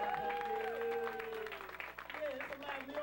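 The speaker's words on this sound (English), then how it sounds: "Give him a round of applause." Applause from a lively live audience in Brooklyn at a talk, steady dense clapping throughout with a voice speaking over it.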